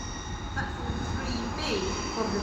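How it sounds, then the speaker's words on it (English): LNER Azuma train departing Doncaster station, a steady rumbling rolling noise with faint squealing tones as the train moves off close by, continuous for the whole span. "LNER Azuma departing Doncaster,"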